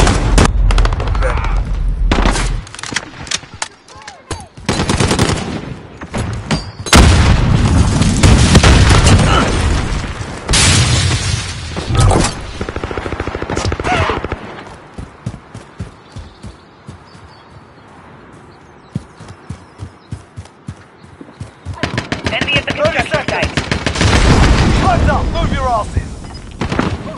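Loud, close gunfire from a Nelson test comes in repeated rapid bursts of machine-gun shots and heavy booms, with short pauses between bursts and a brief stretch of quieter sound before the shooting resumes.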